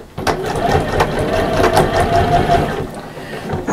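A sewing machine runs steadily up close, stitching along the side of a fabric bag in a continuous busy whir with small pauses.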